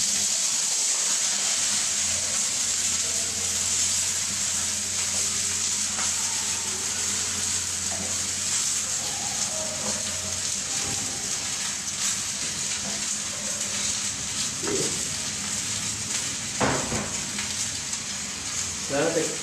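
Chicken frying in hot oil while mustard greens cook alongside gives a steady, loud sizzling hiss throughout, with occasional clatter of stirring or utensils.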